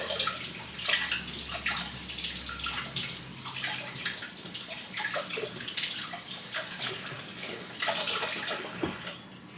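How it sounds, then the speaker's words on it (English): Tap water running over fresh parsley at a kitchen sink, a continuous splashing flow with gurgles and spatters as the bunch is moved under the stream, fairly close. "I'm gonna give these a quick rinse."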